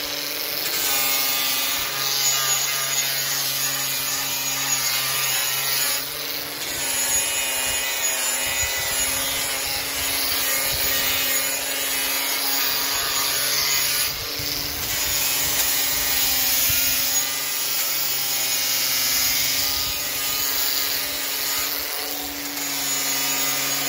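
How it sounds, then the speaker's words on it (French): A cordless X-Lock angle grinder fitted with a rust-removal sanding disc runs at maximum speed, a loud sustained high whine with a rough grinding rasp that dips briefly a few times as the disc works the surface. "je clique sur mon disque à nettoyer la rouille et je mets ma batterie et c'est parti"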